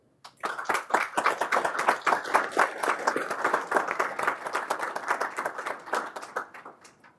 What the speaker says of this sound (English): join me in giving a round of applause to everyone involved